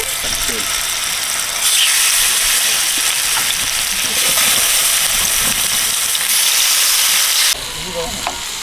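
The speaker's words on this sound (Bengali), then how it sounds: "মাংসটা ভাজবো একটা নন স্টিকারের কড়া নিয়ে নিয়েছি ম্যারিনেট করা মাংস দিয়ে দিচ্ছি" Marinated chicken for butter chicken frying in a non-stick pan, a loud steady sizzle and hiss that swells and continues close up throughout, with a voice talking over the frying.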